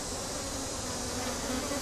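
Honeybees hum around open hive frames, a dense continuous buzz close to the microphone, steady and unbroken.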